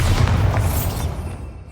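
A Bombarda blasting spell goes off in the Hogwarts Legacy game, a deep booming explosion with a rumbling low roar and crackling bursts that fade over under two seconds, with no talking.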